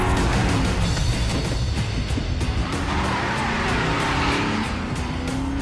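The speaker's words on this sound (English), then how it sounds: "I'm going to do a one-scene breakdown of the opening car chase where John Wick comes back to get his car" A car chase from John Wick 2 fills the scene with loud, continuous engine roar and tire noise, cars racing close by with sustained intensity and no talk.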